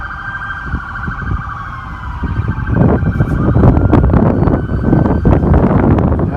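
A police car siren wails as the vehicle arrives at a Labor Day procession, rising and growing louder and closer over ambient crowd and street noise.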